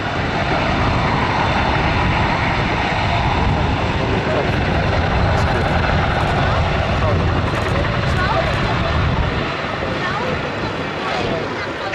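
A Chinook twin-rotor helicopter at the Duxford summer airshow gives a loud, continuous heavy rotor and engine roar throughout, with a commentator's voice running beneath it.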